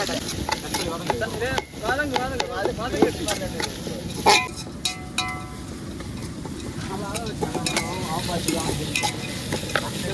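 Onions frying in hot oil for a Tamil Nadu style fish biryani, a continuous close sizzle with frequent scraping stirs, under running talk and birdlike chirps.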